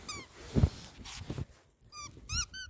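A dog whimpers in short, high-pitched whines, a few separate cries near the start and end with soft thumps and handling noises between them.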